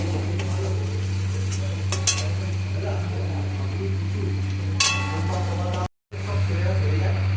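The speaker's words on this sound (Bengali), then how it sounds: "এগুলোকে একটু ভালো করে নাড়াচাড়া করে নিচ্ছি এই মশলাগুলোর সাথে পেঁয়াজটাকে" Onion and spices are stirred in a pan, with turmeric and chili powder added. A steady low frying hiss runs under scrapes of a spoon against the pan, a couple of sharp metallic knocks, and a brief dropout near the end.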